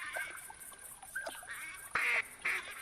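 Duck calls from pintails and mallards in the hunting game theHunter Classic, a few short nasal quacks and whistles over a steady outdoor ambience, moderately loud and close, with no talking.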